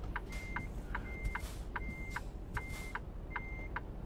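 Repeated reversing beeps from a Freightliner Cascadia truck in American Truck Simulator, five evenly spaced paired tones sounding clearly over a steady low engine rumble.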